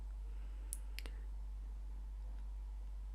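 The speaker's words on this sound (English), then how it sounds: "click on the multiple choice option" Two or three crisp computer mouse clicks close together near the start, faint and sharp over a steady low electrical hum, then only quiet background.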